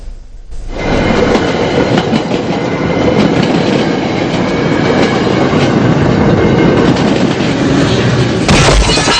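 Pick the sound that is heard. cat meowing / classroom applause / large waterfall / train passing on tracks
train passing on tracks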